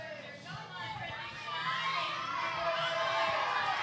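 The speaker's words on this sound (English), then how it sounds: "The crowd is shouting in support for Pratiksha Arun. Lots of shouts of Ale." A crowd at a women's bouldering final at the Asian Cup in Manila shouts and cheers in support of a climber, a sustained, swelling roar under a commentator's voice.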